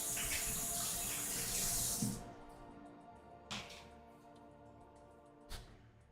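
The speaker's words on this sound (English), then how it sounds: "washing my hands and pouring a drink." Hands being washed under a running tap: a broad rush of water for about two seconds, then the flow stops and a few soft knocks follow in a quiet room.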